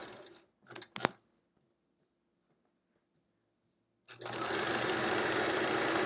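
A sewing machine stitching triangle quilt pieces. A few sharp clicks and a short burst of handling noise come first, then a quiet pause, then a loud, steady, close whirring run that carries on to the end.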